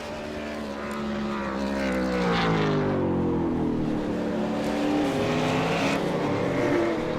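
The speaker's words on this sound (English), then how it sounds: "Sean Kelly about to start a flying lap" A V8 Supercar race car on a flying lap, its engine note rising and falling loudly through gear changes and corners, close and continuous with no talk.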